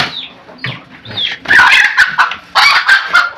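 A desi hen calls in a series of loud, close squawks and clucks, rising and harsh, with a brief pause before a second longer burst of cackling.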